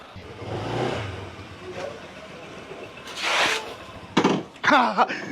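A new motorcycle engine revving in short bursts, with hissy noise and sharp rising roars near the end.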